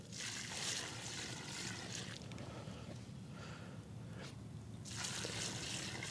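Water from a container is poured over a newly planted bare-root rose in garden soil in spring, coming in splashing gushes at the start and again near the end, with quieter trickling between.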